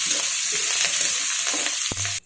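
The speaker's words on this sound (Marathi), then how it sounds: "ते छान असं परतून घेऊयात आपण" Leftover idli pieces with salt sautéed in a hot pan, a steady close sizzle with scraping stir strokes, ending in a sharp knock of the spatula on the pan.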